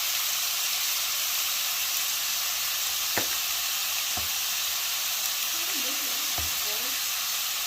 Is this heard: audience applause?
no